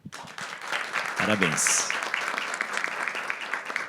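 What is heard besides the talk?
audience applause for school directors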